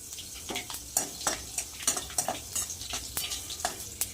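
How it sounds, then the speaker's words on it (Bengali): Dried red chillies and five-spice seeds crackle in hot oil in a wok, a soft steady sizzle broken by frequent sharp pops and spatters, close and fairly quiet, with no talking. "তেলের মধ্যে দিয়ে দেবো শুকনো লঙ্কা আর পাঁচফোড়ন"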